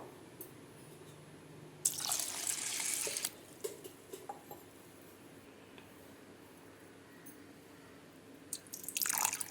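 Water splashes and trickles briefly into a vessel of lentils for soaking, then drips and small clinks follow before another short burst of pouring near the end.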